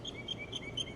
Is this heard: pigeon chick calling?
yes